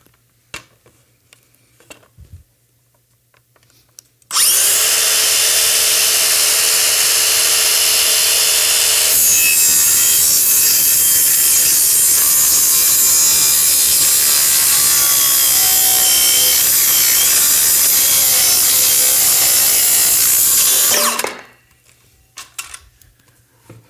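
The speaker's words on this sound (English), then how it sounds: "So let's clamp it onto the table and cut it to size." Hand saw cutting a clamped wooden bumper to size on a table, steady rapid rasping strokes that run loud and continuous for about sixteen seconds before stopping.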